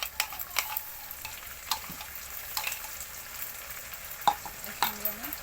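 Ginger, garlic and tomato paste frying in a pan for chicken curry, a soft sizzle broken by scattered utensil taps and scrapes, with a couple of brief clinks near the end.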